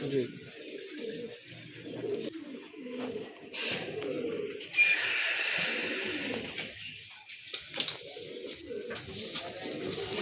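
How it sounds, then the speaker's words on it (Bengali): Large Deshi Raj Golla pigeons coo in low, rolling bursts nearby while someone talks, with a few rustles and flutter-like noises in between. "খুবই সুন্দর অনেক বড় সাইজের কবুতর"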